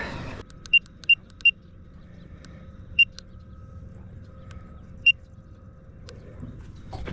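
Electronic beeps from the beeper on a Nosfet Apex electric unicycle: a quick triple chirp, then two single beeps spaced seconds apart, crisp and close over a low steady hum.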